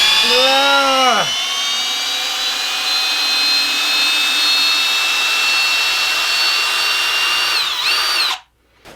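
Kobalt 24V Max brushless power tool drives into a solid log, a loud close high-pitched whine that revs up, holds steady for several seconds, then winds down and cuts off abruptly.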